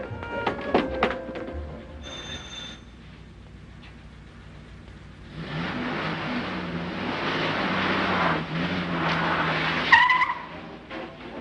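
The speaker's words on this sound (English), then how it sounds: "I'm going to take the car" A car on a film soundtrack starts up and drives off, tires squealing loudly as the engine roars and rises for several seconds, following a brief clatter and a faint tone at the start.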